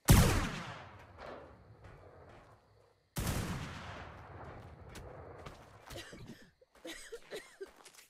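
Sniper rifle fire in the Ark online PvP game: two heavy, booming shots a few seconds apart, each with a long fading echo, followed by softer scattered impacts.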